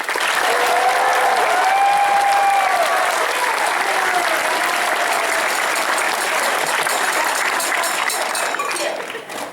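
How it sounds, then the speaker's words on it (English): Applause from a convention panel audience at Megacon Orlando 2021, a dense, loud, sustained clapping from a large crowd that runs through the whole stretch and tapers slightly at the end. "Please give her a round of applause."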